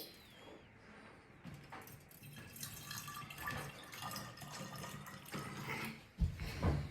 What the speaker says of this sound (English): So first you put the vinegar in.